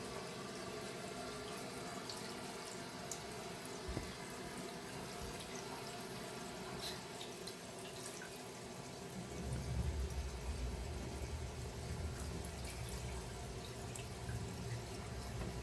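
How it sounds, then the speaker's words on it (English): Water runs from a tap into a kitchen sink during garbage disposal repairs, a soft steady flow with small drips, growing fuller and louder about two-thirds of the way through. "She's running water, but nothing's leaking."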